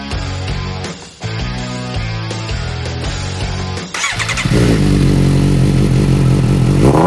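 A 2013 Suzuki GSR-750 ABS motorcycle engine runs loud and close, with a shift at about four seconds into a fuller, steady roar that holds to the end.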